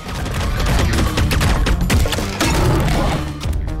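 Relentless gunfire in the video game Serious Sam: Tormental, a dense, loud barrage of rapid shots and heavy impacts that runs without letup from start to finish.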